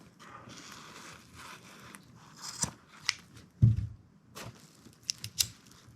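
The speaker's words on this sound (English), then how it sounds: "I will simply cut right here with scissors and then melt the material with a lighter." Scissors snip through a nylon strap on a 5.11 Tactical Rush 24 2.0 backpack, followed by the click and flick of a lighter used to melt the cut end. The sounds are sparse, close and quiet, with no voices.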